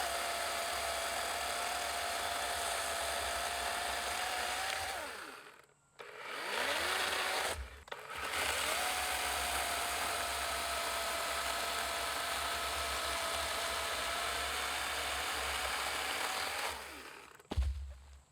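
A Dewalt 20V compact cordless chainsaw cuts through wood with a loud, steady motor whine, pausing briefly twice before cutting again, close by with no talk.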